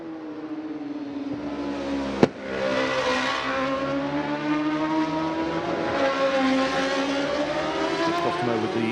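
BMW race cars brake into Fisherman's Bend at the Macau Grand Prix, their engines on compression giving a loud, steady whine with shifting harmonics, broken by one sharp click early on; no voices.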